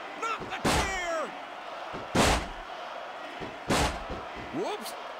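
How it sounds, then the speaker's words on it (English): Heavy slams and thuds from a steel chair shot in the SmackDown vs Raw 2006 wrestling video game, three loud impacts spaced about a second and a half apart, each over excited commentary talk. "No! Not the chair!"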